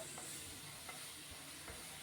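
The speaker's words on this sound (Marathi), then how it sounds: "ही छान शिजवून घ्यायची प्युरी कांद्याची" Onion puree cooking in a pan for pav bhaji, giving a steady, soft sizzling hiss with a few faint stirring scrapes, fairly quiet throughout.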